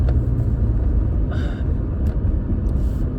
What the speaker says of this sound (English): But I can tell you it sounds different when you fucking floor it.